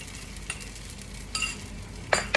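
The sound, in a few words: egg stirred into frying rice in pan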